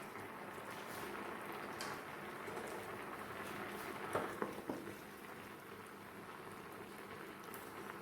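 Potatoes boiling in a pot of water for poori masala, a faint, steady bubbling hiss with a few brief clicks and pops partway through, no one speaking.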